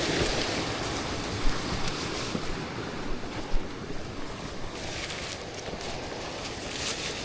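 Water crashes in a continuous broadband roar at a waterfall, steady and rushing with gusty fluctuations and no voices.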